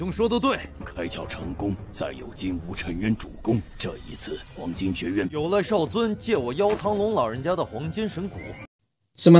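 Horses whinny and neigh from a mounted group on a mountainside, their calls mixed into steady talking that runs almost the whole way before a brief silence and a short loud burst at the end.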